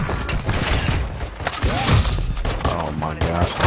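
Rapid gunfire bursts from a Warzone 2.0 match crackle and thump close by, mixed with a player's loud excited voice and other game noise.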